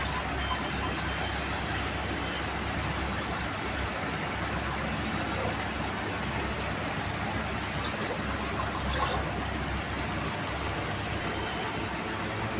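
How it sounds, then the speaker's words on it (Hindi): Water is poured steadily into a vessel holding dal and rice for soaking before cooking sambhar chawal, a continuous close splashing trickle that runs unbroken throughout. "पानी डालेंगे पहले।"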